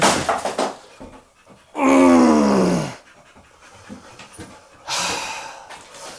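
A dog pants in two loud, close bursts of rapid breathing with a quieter stretch between, heard in a workshop setting during tiny house cabin construction.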